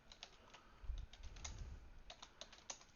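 Quick, faint clicks of fingers typing on a laptop keyboard in a terminal, irregular keystrokes over a soft low rumble.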